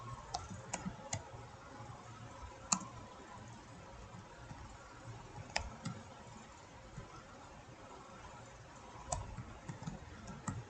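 Light, irregular clicking of keys being typed, soft and scattered with a few sharper taps, over a low steady background hum.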